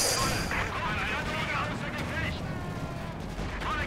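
Explosions and gunfire from a Company of Heroes 2 battle as an enemy base and its infantry are blown up, a dense continuous barrage of booms and crackle with someone talking over it throughout.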